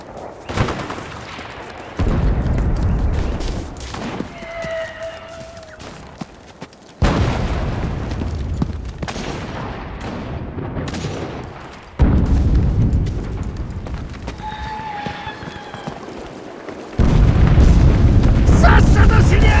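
Artillery shells exploding in Enlisted, in a Pacific War battle at the Tenaru River: four heavy, rumbling booms about five seconds apart, each striking suddenly and rolling on loudly, with faint voices in between.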